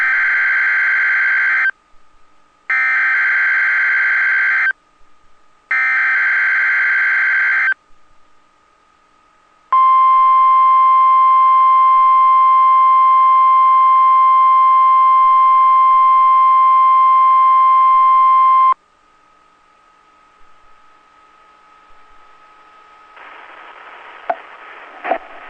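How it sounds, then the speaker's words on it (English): A National Weather Service weather radio warning alarm for a weekly EAS test in Minnesota: three short bursts of buzzy data tones, then a long steady high-pitched alarm tone of about nine seconds, followed by faint hiss and crackle. "has just activated the warning alarm on 13 weather radio stations across central and southern Minnesota"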